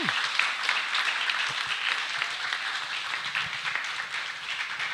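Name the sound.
audience applause for the eleven participants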